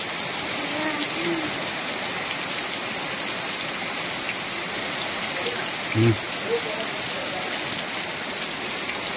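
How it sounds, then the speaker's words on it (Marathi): Heavy monsoon rain pours down steadily in the Konkan countryside, a dense, loud hiss of drops on surfaces throughout, with faint voices briefly audible beneath it. "भरपूर पाऊस पडतोय ना?"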